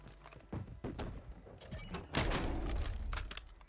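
Gunfire in Warzone on Rebirth Island, a cluster of sharp shots with a heavier burst near the end, close and fairly loud within steady game ambience.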